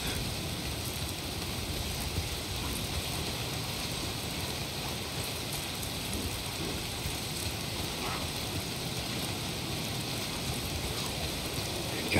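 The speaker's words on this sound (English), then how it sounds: "If it's not the freaks, it's the goddamn rain." Steady rain falling in the open-world video game Days Gone, a constant broadband hiss with no breaks, moderately quiet and even throughout.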